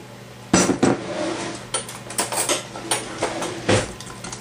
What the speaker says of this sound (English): And mix the hell out of it.